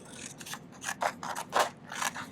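Shears cut through textured silver sheet metal for earrings, a series of crisp, rhythmic snipping and scraping bursts, close and moderately quiet.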